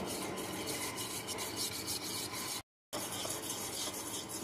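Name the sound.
stirring milk mixture with salt and cardamom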